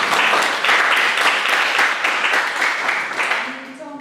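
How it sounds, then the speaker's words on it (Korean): An audience at an academic panel discussion gives a professor a dense, sustained round of applause that tapers off, and a voice begins speaking as the clapping fades. "여러분 박수로."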